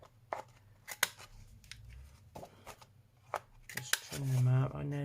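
Scissors trim junk journal paper pages in a series of close, crisp snips, with a voice speaking briefly toward the end.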